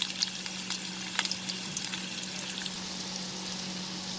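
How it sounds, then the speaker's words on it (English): Onion hits hot oil in a pan for an okra and chicken curry, giving a steady close sizzle with small scattered pops and crackles and no talking. "now I am going to add the onion"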